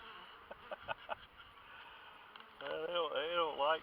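Honeybees buzzing busily around a hive entrance, a close steady drone that swells and wavers in the last second, preceded by faint scattered buzzes and soft background sounds.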